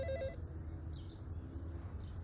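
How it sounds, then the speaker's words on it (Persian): A telephone rings in a quiet room, with short bursts of electronic trilling spaced apart over faint background hum. "برو گوشی بردار، شاید صمد باشه."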